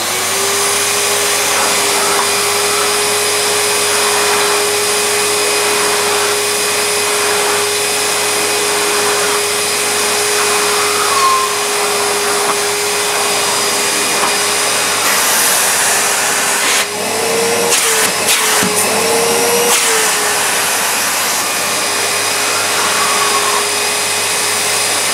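A Numatic Charles wet and dry vacuum cleaner, rated 1000 watts, runs with a steady loud motor whine and hum throughout, with a few brief bumps and handling knocks near the end and no talking.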